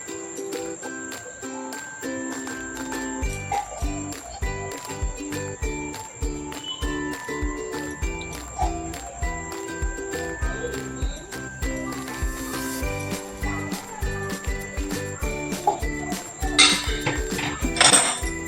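Dishes and utensils clink and tinkle steadily as cooked phodnichi poli, a tempered leftover-flatbread breakfast, is served onto a plate at home, with light metallic taps throughout and a louder clatter near the end.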